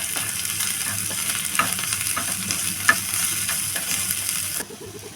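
Green chili and ginger garlic paste frying in oil for egg puffs, a steady close hiss of sizzling with a couple of faint stirring taps, cutting off near the end.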